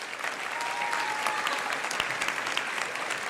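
Conference audience applause, a dense steady clapping from a crowded room that continues evenly from start to finish.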